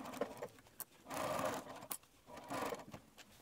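A sewing machine backstitching the seam of a small fabric pouch, heard in two short, fairly quiet runs of whirring stitches separated by clicks and handling sounds.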